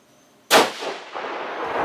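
A single loud, sharp 6.5 Creedmoor rifle shot firing a 140 ELD-M load with H4350 powder cracks at close range and then trails off into a long rolling echo, with no voices.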